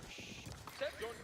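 Cavalry hooves clip-clopping as mounted units ride in during an Age of Empires match. The hoofbeats sit quietly beneath a commentator's continuous talk.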